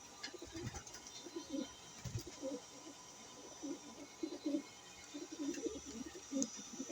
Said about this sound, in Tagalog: Ayan, yung ninja natin ibon, si Berta.